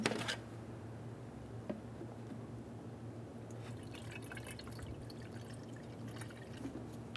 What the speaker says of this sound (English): I'm going to pour the extra coolant from the old reservoir into the new one